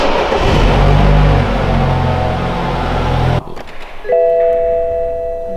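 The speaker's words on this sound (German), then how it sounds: "das ist der Gong vom Rückwärtsgang her" A loud engine rumble stops abruptly, then after a short pause a car's clear electronic reverse-gear chime sounds and holds steadily.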